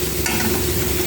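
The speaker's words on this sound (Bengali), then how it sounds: "আরও খানিকটা ভাজবো।" Lentil dumplings (bori) fry in a pan with a loud, close, continuous sizzle and bubbling, steady across the short moment with a slight stir scrape, no voices.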